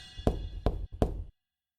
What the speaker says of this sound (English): Reaching his hand up to the door, James knocked.